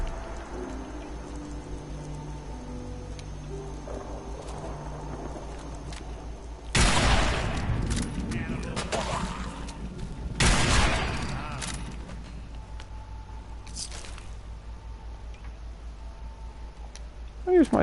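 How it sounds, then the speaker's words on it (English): A Tesla rifle fires in Fallout 4: Far Harbor, two loud crackling electric bursts a few seconds apart, each sharp and broadband with a brief tail, over quiet game ambience with someone talking. "I use my Tesla rifle a lot."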